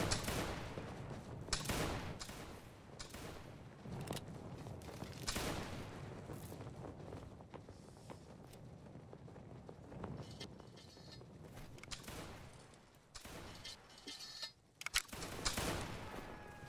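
Musket volleys crackle through a large multiplayer Napoleonic battle with Saxon and Bavarian lines trading fire: repeated sharp reports and ragged bursts, some near and some distant, over a steady background din with no clear speech.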